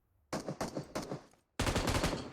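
Automatic gunfire from the mobile game PUBG Mobile rattles out in three short rapid bursts, then a longer loud burst after a brief gap, close and sharp with no talking.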